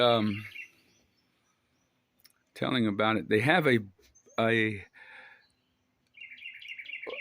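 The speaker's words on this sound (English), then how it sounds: "There's some birds over here" Light bird chirps twitter faintly in the background, with a repeating high call near the end, while a person talks in the foreground.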